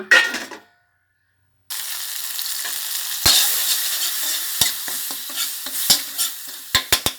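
Red curry paste, kaffir lime leaves and garlic fry in a little oil in a wok for a Thai pumpkin and tilapia curry, a steady close sizzle with sharp clinks of a utensil stirring against the pan after a brief silence.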